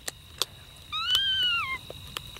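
A kitten meows once from inside a garage, a thin, rising-then-falling cry about a second long, faint and somewhat distant, with a few soft clicks and knocks around it.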